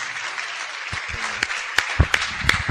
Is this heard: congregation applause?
yes